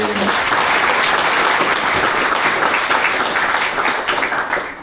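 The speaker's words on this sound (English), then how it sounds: "so a round of applause for" Sustained audience applause at a football and netball club's 150th anniversary celebration, dense steady clapping from a large crowd filling the room, loud and continuous throughout before easing slightly at the very end.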